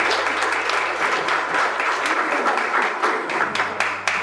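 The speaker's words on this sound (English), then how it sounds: "would you please give them a applause." Steady, dense audience applause fills the room after a call to honor guests at a Sikh community event recalling the 1987 Halifax arrival, with a few sharper claps standing out near the end.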